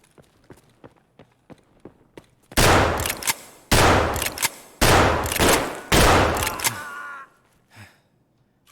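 Loud bursts of automatic gunfire in Escape from Tarkov, four long sustained volleys in close succession, preceded by a run of quieter sharp single taps like footsteps or distant shots.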